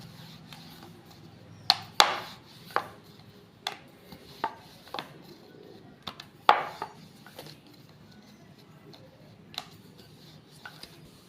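Small rounds of flour-dusted dough are rolled thin with a rolling pin on a board for a sweet, producing sparse, irregular wooden knocks and taps over a faint background hiss, with no talking.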